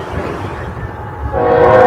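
Passing train in Fostoria, Ohio, a loud nearby rumble that swells as the horn begins to sound steadily near the end.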